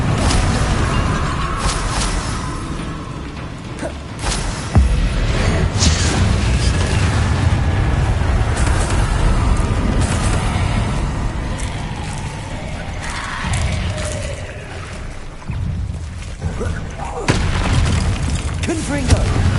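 Confringo spell blasts in the Hogwarts Legacy video game go off as repeated booming explosions and bursts, loud and scattered across the stretch amid battle clatter, with a voice speaking at times.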